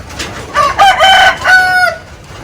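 A rooster crows loudly and close by on a grassy chicken farm in Glan, Sarangani Province, Philippines, a long drawn-out call with a couple of rising segments, followed by quieter background.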